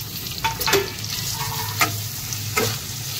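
Long-sliced onions and a tomato fry together in a kadai for egg ghotala, giving a steady close sizzle broken by a few sharp clinks of a stirring spoon.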